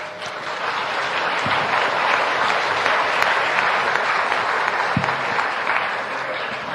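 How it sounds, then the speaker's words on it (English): Warm audience applause following an academic talk on science, innovation and development, a dense steady clapping that fills the whole stretch with a crowd murmuring beneath it. "Very warm round of applause, please."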